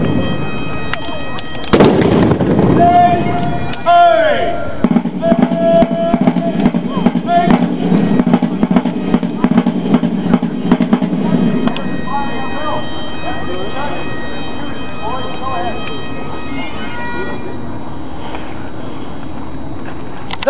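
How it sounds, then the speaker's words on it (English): Historical rifles in an independent fire demonstration at the Halifax Citadel: a loud sharp shot, then more reports and clatter fading into a long, noisy outdoor wash of crowd and ambience. "This is independent fire. This can be used so each man can make the best use of his own marksmanship."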